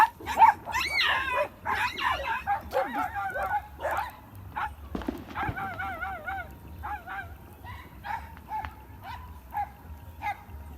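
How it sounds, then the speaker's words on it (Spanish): Dogs barking outdoors on a New Year's Eve night in Ecuador, greeting a new neighbour dog, with sharp repeated barks and yelps over a steady low hum, some loud and close, others fading into shorter calls toward the end. "Y los perros le están dando la bienvenida al nuevo perro vecino."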